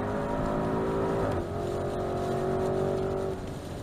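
Porsche Cayenne Turbo GT with titanium exhaust accelerating, a loud sustained engine roar whose pitch climbs, dips briefly at a shift, then climbs again, heard from inside with no talking.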